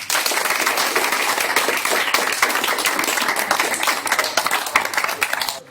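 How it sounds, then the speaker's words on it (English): An audience at a policy talk gives a round of applause, loud, dense clapping from many hands sustained throughout before tapering at the end. "please give a round of applause"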